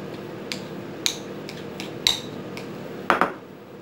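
Metal utensil clinking against a bowl while cheese is mixed into crab filling for rellenong alimasag, sharp isolated taps spaced irregularly, with a quick double clatter near the end, close and fairly quiet.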